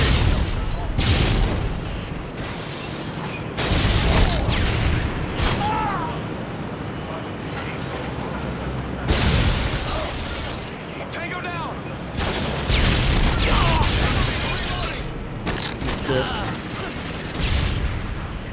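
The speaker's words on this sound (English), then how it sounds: "a stun grenade!" A stun grenade goes off in the video game Modern Warfare 2 amid steady rattling gunfire and repeated heavy bangs that carry through the whole stretch.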